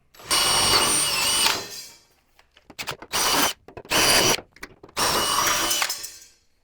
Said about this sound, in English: So we're just going to drill these out from the inside.